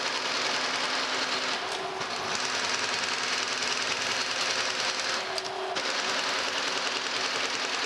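A Kearney & Trecker 2H horizontal milling machine table runs on rapid traverse after a clutch pack repair, giving a steady, fast mechanical clatter and whir that shifts pitch as the table changes direction, close and without talk.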